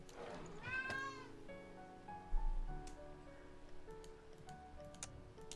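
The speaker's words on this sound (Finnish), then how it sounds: "Hyvä, että kissat nyt hepuu" Cats meowing in the Agatha Christie game And Then There Were None, several drawn-out mews close by, the loudest early, over quiet background music with soft ticks.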